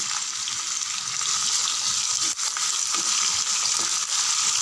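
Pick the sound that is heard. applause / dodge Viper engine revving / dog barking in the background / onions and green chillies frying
onions and green chillies frying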